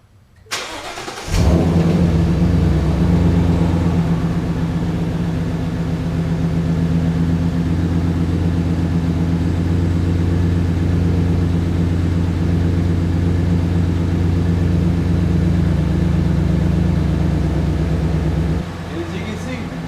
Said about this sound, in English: Car's running good, everything's good